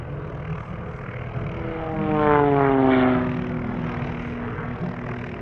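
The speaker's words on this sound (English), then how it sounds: "this is the CAP-232, developed by the French company Moudry in the late 1990s as the ultimate aerobatic machine" A CAP-232 aerobatic monoplane, a French-built Mudry propeller aircraft, passes overhead at an airshow, its engine drone rising to a loud peak with a sweeping pitch change as it goes by, then fading back into a steady distant hum.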